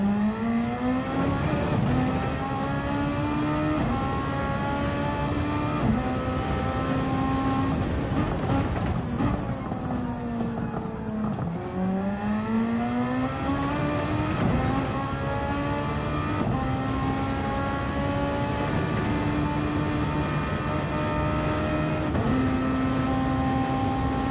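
Race cars circle the Nürburgring GP circuit in Gran Turismo 7, with a steady, loud engine drone rising and falling as the car shifts and accelerates, continuous throughout.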